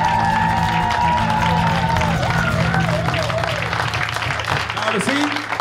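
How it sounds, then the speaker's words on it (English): Concert audience applauding and cheering, with steady clapping and crowd noise mixed under a voice and sustained musical tones, some pitched vocal whoops riding on top. "Give yourself a big round of applause."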